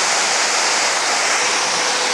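Water sprinkles and pours down inside a thermal power station cooling tower, making a dense, steady rushing hiss like heavy rain or a waterfall, loud and unbroken.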